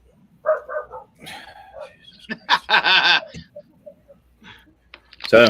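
A dog barks a few times at close range in a home kitchen while people talk and chuckle around it, the yaps short and scattered between voices.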